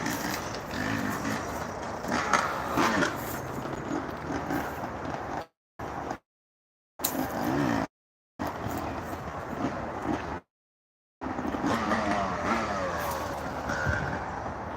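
Motorcycles on a ride at Hardwick hill, engine and mechanical rattle with wind noise, rough and uneven with several brief dropouts, under occasional talk.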